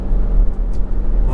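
Porsche Cayenne 957 with a 4.8L V8 pulling hard at full throttle in 4th gear from low revs, a steady loud low engine drone throughout, smooth with no bucking.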